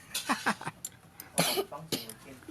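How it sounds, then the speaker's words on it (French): Several short coughs in quick succession, close and moderately loud, brought on by spicy cooking fumes in a Thai restaurant kitchen, with brief gaps between bursts. "on tousse parce que quand on cuisine, selon qu'est-ce qu'on cuisine, on va avoir le piquant"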